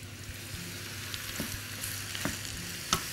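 Mushrooms frying in a pan, a close, steady crackling sizzle with a few sharp clicks of utensils, no talk.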